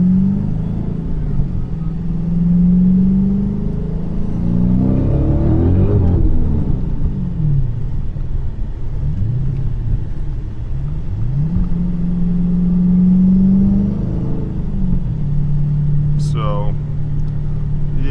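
A 426 Whipple supercharged Hemi engine idling roughly with a stalling issue, its deep rumble wavering up and down in slow surges, close and loud, with someone talking briefly.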